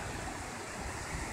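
A waterfall at Bear Creek rushes steadily, a dense continuous roar of falling water filling the space, with no voices over it.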